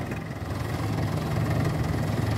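A 30-year-old 98 model tractor engine straining while hauling a double-tyre trolley loaded with about 90 quintals of soil, a steady loud low diesel chug with a throbbing rhythm, close up.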